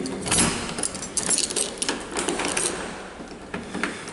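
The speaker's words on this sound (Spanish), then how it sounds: "Cerradura abriendo" A key works the lock of a wenge-coloured wooden door, giving close, loud metallic clicks, scrapes and rattles in quick irregular bursts, followed by a few sharper clacks as the lock opens.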